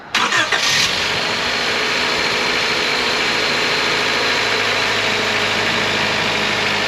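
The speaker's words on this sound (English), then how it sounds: "Okay, it says to start the engine." A car engine cranks briefly and catches during a battery test, then settles into a steady, even idle that continues alone.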